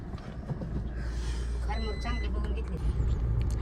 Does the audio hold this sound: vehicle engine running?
yes